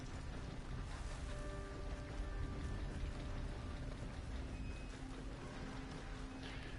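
Steady rain falls in the Western open-world game Red Dead Redemption 2, a constant soft hiss with scattered drops, faint and even throughout.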